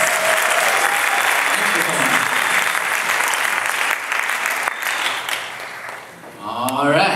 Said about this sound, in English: Give another round of applause to Charlie Hales.